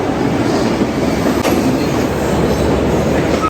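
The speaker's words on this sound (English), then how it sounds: "I'm about to head to the train now." A train rolls into a station with a steady, loud rumble and rail noise, faint squeal and clatter, continuous with no voices.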